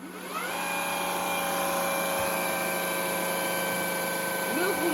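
A Neakasa PowerScrub II floor cleaner with its roller spinning, a steady motorized whir with tonal harmonics that spin up within the first half second and then hold evenly, close and moderately loud.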